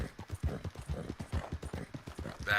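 A horse trots at a steady pace in Red Dead Online, its hooves clip-clopping in a quick, even rhythm, close and clear with no talk over it.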